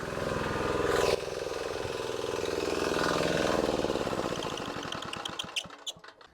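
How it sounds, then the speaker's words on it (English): Amazon-bought diesel engine running on olive oil fuel, a steady close chugging idle that drops abruptly near the start, then sputters and knocks irregularly as it winds down and dies near the end. "I'm gonna go ahead and shut the engine off before it starts sucking in air."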